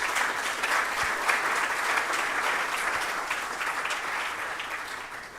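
An audience at a closing ceremony gives a sustained round of applause, dense hand clapping that holds steady, then gradually tapers near the end.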